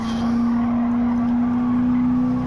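A C4 Corvette ZR1 sports car engine roars at high, steady revs with a strong droning tone, loud and continuous as it pulls along the track.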